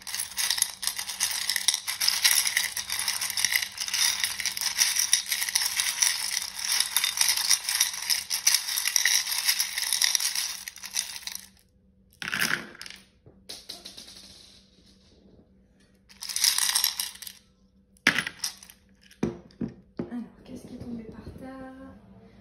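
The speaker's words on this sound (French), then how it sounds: "On va aller lancer tout de suite les petites charmes." Small divination charms cast onto a surface, a long stretch of dense rattling and clattering followed by a few shorter clinking bursts, close and fairly loud.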